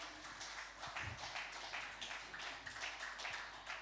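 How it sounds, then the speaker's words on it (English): A congregation at a Christmas church service program claps in a steady, moderately distant round of applause for a Sunday school participant, with no talking over it. "Can we give a round of applause for Angel, please?"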